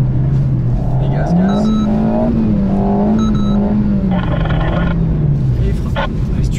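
Alpine A110 S engine revving hard as the car drifts on ice, a loud sustained drone rising and falling in pitch under continuous talk.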